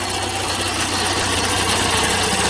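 A gasoline engine driving a generator at about 61 hertz runs at no load, giving off a loud, steady, even drone and rattle with no change in speed and no talking.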